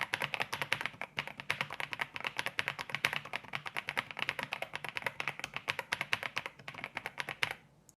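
Fingers type fast and steadily on a mechanical keyboard with heavy switches, a dense run of crisp close-up clacks that stops abruptly near the end.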